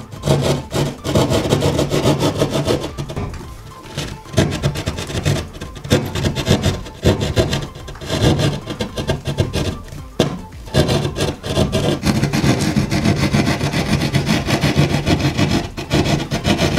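A hand saw cuts out drywall for hiding TV wires, producing loud, close, rhythmic rasping strokes that repeat steadily with brief pauses between runs.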